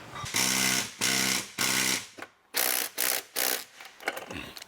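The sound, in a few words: rattle gun (impact wrench) on hydro handbrake bolts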